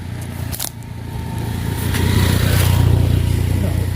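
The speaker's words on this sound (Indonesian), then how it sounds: "itu motornya ngaliwat lain ojek" A motorbike rides past on a Sundanese village road, its engine noise swelling from moderate to loud and holding near the end, with rumbling low tones and a few clatters early on.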